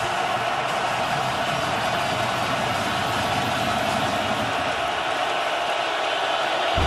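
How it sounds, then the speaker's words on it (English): A packed football stadium crowd roars at the Ohio State vs Michigan game in 2023, a dense, steady wall of noise that holds at full volume throughout. "now listen to this crowd come alive"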